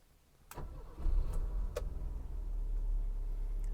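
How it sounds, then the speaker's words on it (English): A BMW E21 320i engine starts up with a brief cranking burst followed by a steady, low idle rumble that settles in close by, with a couple of short mechanical clicks early on and no voices. "I'm going to go ahead and start the car up."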